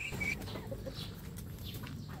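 Naked Neck hens clucking softly over their breakfast of pandesal bread, a steady low murmur of fowl sounds throughout with no talk.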